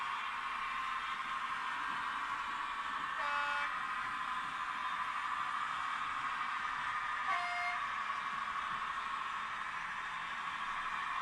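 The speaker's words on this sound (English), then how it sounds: "oh, bubble car is loud, isn't it?" A bubble car drives past loudly, a steady rush of engine and road noise lasting throughout, with two brief tonal beeps like distant horns rising from the wash.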